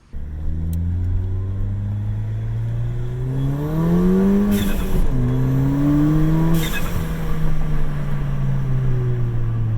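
A car engine idles steadily, then revs up twice with rising, falling pitch, loud and close, with no one talking.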